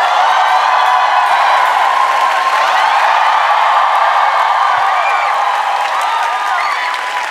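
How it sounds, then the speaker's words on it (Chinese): A studio audience at a Taiwanese late-night comedy talk show applauds and cheers to welcome a stand-up comedian onstage: a dense, steady wash of clapping and crowd noise fills the whole stretch at high level. "各位观众，我们来掌声欢迎黄豪平"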